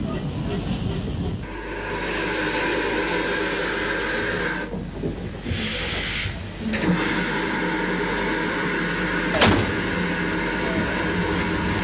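A GWR 57XX pannier tank steam locomotive works a passenger train on a South Wales single line, a loud rumbling rolling roar that shifts in tone as it passes, with a brief sharp accent near the end.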